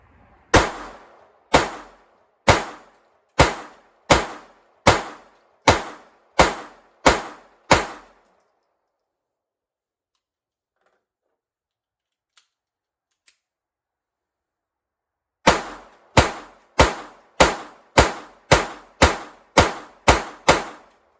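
A Ruger LCP2 pistol fires Remington Thunderbolt rounds outdoors: a run of eight sharp, evenly spaced reports, a long pause, then a faster string of about twelve more, loud and close.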